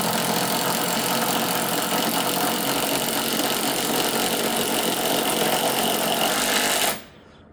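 An impact wrench with an impact-rated socket hammers in one long, loud, rapid rattling burst, close up, then cuts off abruptly just before the end, with no voices.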